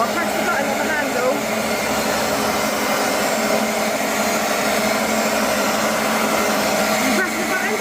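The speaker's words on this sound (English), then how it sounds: "But let's give it a go with the Hoover then, let's see. So I'll press the button on the handle." A Hoover carpet cleaner runs on a landing with a loud, steady motor whine and rushing airflow that holds unbroken for the whole stretch.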